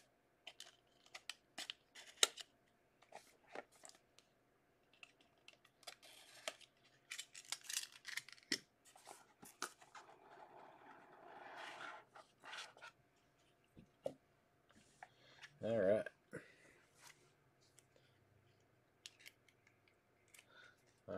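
Scissors snip open a 2019 baseball card pack, with a run of small close clicks and crisp cuts over about twenty seconds and a louder crinkle of foil near the end, quiet and with no talking.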